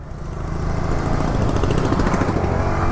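A motorcycle engine runs steadily and loudly nearby, a dense buzzing drone that swells slightly in the first half-second and then holds a constant rumble.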